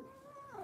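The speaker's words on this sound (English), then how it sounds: "Look at the kitty, Noelle." A cat lets out a drawn-out, unhappy meow, a single sustained wavering cry heard close and fairly loud, with no talking over it.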